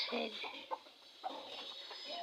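Chickens on a home poultry farm cluck in a few soft bursts at close range, with a steady hiss of background noise throughout.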